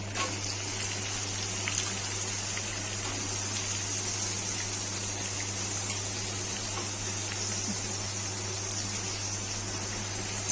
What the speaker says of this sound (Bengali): তেলটা পুরো হয়ে গেছে, গলে গেছে। তেলের মধ্যে উচ্ছেটা দিয়ে দেবো।